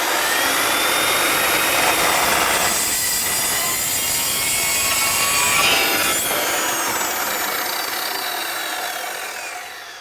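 A hand saw cuts steadily through a chassis piece during assembly of a VRS 01 model chassis, continuous rasping strokes loud and close for the whole stretch with no talking.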